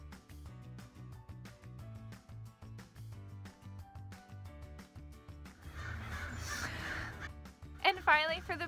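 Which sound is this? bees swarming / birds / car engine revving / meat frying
birds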